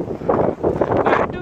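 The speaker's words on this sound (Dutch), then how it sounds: "Oh, nu gaat het waaien." Wind in a forest gusts across the microphone in rough buffeting surges, loud and close, and a person talks over it.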